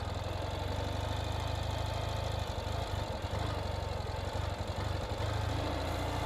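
A 2019 Ural Gear Up sidecar motorcycle engine idles continuously with a low, even rumble and slight knocking texture, close by and unbroken throughout.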